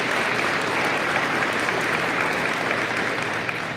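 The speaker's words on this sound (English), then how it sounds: "So one more round of applause to our hosts here at Conestoga College." Audience at a police badge ceremony at Conestoga College gives a round of applause, dense steady clapping filling the room from start to finish, loud and close with no talk.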